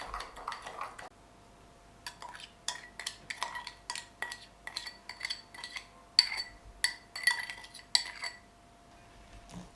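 A spoon works sweet brioche dough in a bowl, with repeated clinks and scrapes of the utensil against the bowl coming in irregular bursts, close and fairly quiet.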